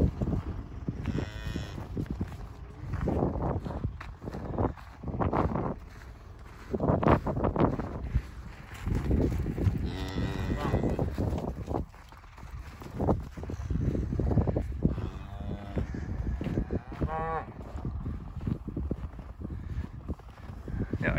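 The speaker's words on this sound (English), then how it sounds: "So we got our three other calves right here." Cattle and young calves moo repeatedly on a farm, with several overlapping calls at varying distances and some wind noise on the microphone, and no one speaking.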